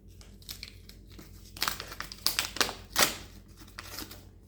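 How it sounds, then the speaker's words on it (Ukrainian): Paper crinkles and rustles up close as a paper packet is torn open, in a series of sharp crackling bursts with short pauses between. "Відкриваємо ще один пакет."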